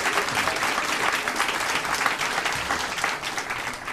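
Warm audience applause at a German cabaret performance by Hanns Dieter Hüsch in 1988, a theatre crowd clapping densely and steadily, moderately loud and sustained without speech.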